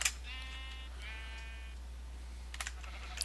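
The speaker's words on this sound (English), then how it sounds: "Setting the sheep ablaze with his mighty enchanted sword." Minecraft sheep bleat twice in a row, clear but moderate, over a quiet hum, followed by a few sharp keyboard clicks near the end; no one speaks.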